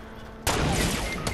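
A sudden loud sniper shot cracks in the Fortnite video game, breaking abruptly into a dense burst of noise that lingers for about a second.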